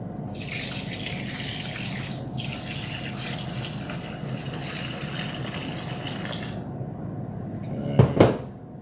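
Water pours steadily and loudly for about six and a half seconds in a chef's live kitchen, then the flow stops and a couple of sharp knocks follow near the end.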